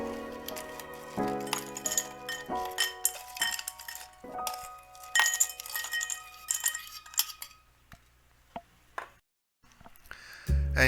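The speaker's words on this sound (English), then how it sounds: "also we shall add some ice cubes." Ice cubes clink and rattle against glass as they are dropped in for mango lassi, a string of bright, close chinks and clatters in uneven bursts with brief quiet gaps between.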